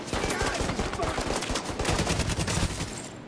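Rapid, sustained bursts of automatic gunfire in the video game The Division 2, loud and close, rattling almost continuously for a few seconds.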